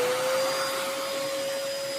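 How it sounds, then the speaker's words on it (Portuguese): A vacuum cleaner runs steadily while being passed over a small dog, its constant motor whine and airy hiss holding at an even, close level with no talking. "ela adora que eu passo o aspirador nela"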